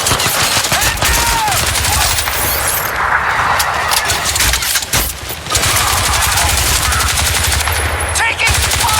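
Sustained machine gun fire rattles loudly in a video game battle, rapid bursts repeating through the whole stretch with a short lull midway.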